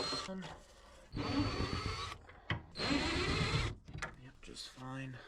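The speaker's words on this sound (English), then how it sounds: "I'm gonna unscrew the top. There's screws everywhere." Screws being backed out of the top of a 1910s Victorian cherry wood dresser, with two long whirring bursts of a power driver separated by brief pauses, close and fairly loud, with someone talking between runs.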